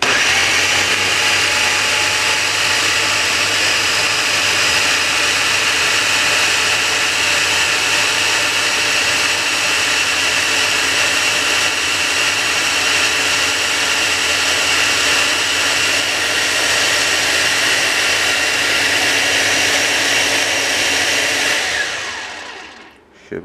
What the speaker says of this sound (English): why not blend it?